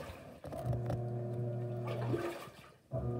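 A Haier portable mini automatic washer runs its wash cycle on a high water level, giving a steady motor hum with sloshing, churning water throughout, briefly dipping near the end before resuming.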